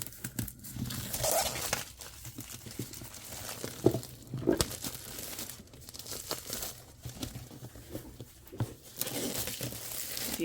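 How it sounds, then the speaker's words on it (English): Plastic wrap being peeled and torn off a SleeveChief card storage box, a steady run of close crinkling and ripping bursts with scattered louder tugs and rustles throughout. "But we do want to get the plastic wrap off."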